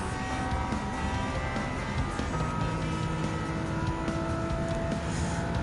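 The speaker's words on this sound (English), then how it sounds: "The Bugatti has now taken the head start, and the Lamborghini will go on a chase." Engines of a Bugatti Veyron and a Lamborghini racing in Gran Turismo 7, a continuous loud droning roar with sustained engine tones shifting slightly in pitch.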